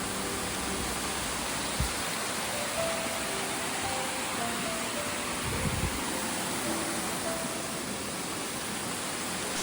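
A stunning waterfall roaring steadily near an outdoor cooking spot by the beach, a dense, unbroken wash of rushing water with a few faint knocks underneath.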